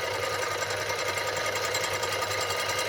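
A mini metal lathe turning a spindle with a gouge, a steady close mechanical whir and buzz with a fine rapid rattle, unbroken throughout with no speech.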